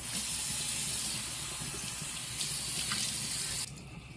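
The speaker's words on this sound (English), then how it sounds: "I'm gonna rinse my face just to rinse off the extras" Tap water running steadily into a sink while a face is rinsed during an at-home spa facial, a loud continuous splashing flow that cuts off abruptly near the end.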